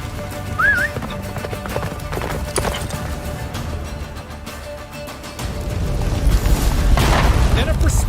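Roach, Geralt's horse in Witcher 3, galloping during the Battle of Kaer Morhen, hoofbeats rumbling beneath shouted dialogue, battle booms and game music, growing louder toward the end.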